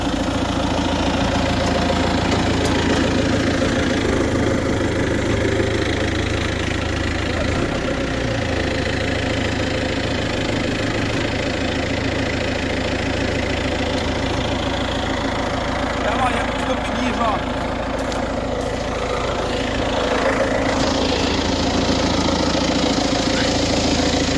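An MTZ tractor engine idles outdoors in freezing conditions, with a steady, close, rumbling and knocking drone throughout and a person talking over it at times.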